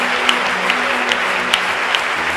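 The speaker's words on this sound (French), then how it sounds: "Nous sommes en train d'acclamer Jésus" A church congregation applauds and cheers for Jesus, a steady dense wash of clapping from a large crowd, loud and close, with faint voices mixed in.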